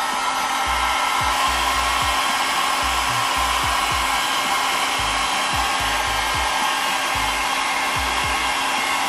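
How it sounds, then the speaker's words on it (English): A hair dryer on a low setting blows steadily and loudly over a wig throughout, a constant airy whoosh with a faint motor hum, with no talking. "I'm gonna blow dry this on low."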